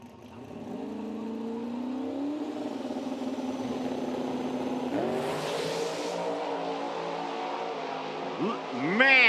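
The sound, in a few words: drag racing car accelerating down the strip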